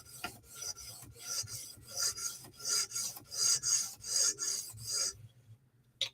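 A Spyderco knife blade is drawn across a sharpening stone in about a dozen rhythmic rasping strokes, crisp and close, then it abruptly stops, leaving quiet.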